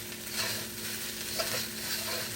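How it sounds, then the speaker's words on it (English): Fried rice is stir-fried in a pan for Yangchow fried rice: a continuous soft sizzle with faint scraping of the spatula, close and steady, with no talking. "We're going to stir fry this for about 7 minutes."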